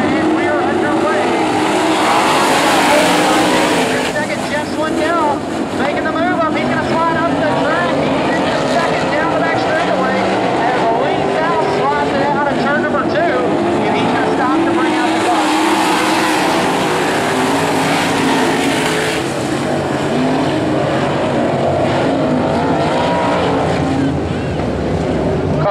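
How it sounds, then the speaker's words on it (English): Goodyear USCS sprint cars, eight of them, run a ten-lap heat race on a speedway. A continuous loud engine roar holds steady throughout, swelling and fading as the pack passes, with a track announcer talking over it. "8 cars, 10 laps. Heat race number 1 of 4 for the Goodyear USCS Sprint Cars."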